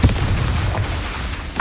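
Blasts from the Confringo and Bombarda spells crack and boom in Hogwarts Legacy, a loud burst of rumbling explosions that opens the moment, followed by rolling low rumble and another sharp pop near the end.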